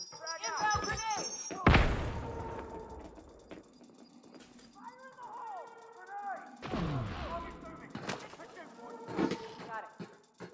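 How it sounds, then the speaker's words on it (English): A grenade blast in the video game Elite Dangerous, two broadband booming bursts about five seconds apart amid game sound and chatter, with voices talking around them. "Inbound grenade!"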